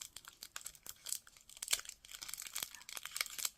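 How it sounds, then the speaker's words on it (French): Small piece of tape being picked and peeled off a parcel, heard as quiet, close, irregular crinkles and short tearing bursts with no talking. "Alors, j'essaye de défaire le petit scotch"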